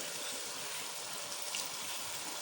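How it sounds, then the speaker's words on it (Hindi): Water poured into a cooking pot of spinach and potato curry, a soft, steady splashing hiss, faint and continuous, with no talk. "अब हम इसमें थोड़ा सा पानी ऐड करेंगे"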